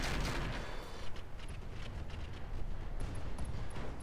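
Mech weapons fire in Roguetech with a dense, continuous roar of gunfire and explosive impacts, loud and sustained throughout with sharp high clicks scattered in, no speech present.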